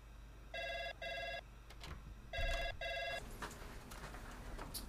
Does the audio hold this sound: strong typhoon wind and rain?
no